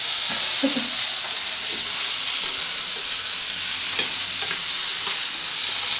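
Chanterelle mushrooms fry in butter in a pan, giving a steady, close, dense sizzle that runs the whole time, with faint stirring scrapes now and then.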